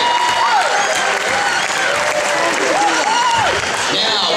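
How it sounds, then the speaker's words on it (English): Audience at a gymnastics state championship giving sustained applause and cheering, loud and close, with a voice and whistle-like pitched tones gliding over the clapping throughout. "Round of applause for everybody."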